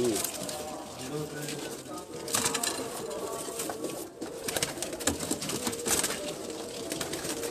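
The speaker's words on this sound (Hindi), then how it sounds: "ये हमारे गोल्ड इमामदीन कबूतर है माशाल्लाह जी" Gold Imamdin pigeons coo repeatedly from a rooftop loft, soft rolling calls layered over steady outdoor background noise, with a voice talking now and then.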